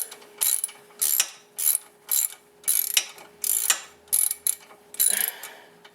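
A wrench ratchets brake caliper bolts loose on a 2004 Volkswagen Jetta TDI, giving eight or nine crisp, clicking bursts in a steady rhythm, close up and with no voices.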